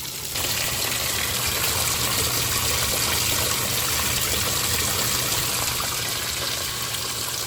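Water gushing steadily into a washing machine drum as it fills on a plain-water cycle, a continuous loud rushing hiss with no pauses.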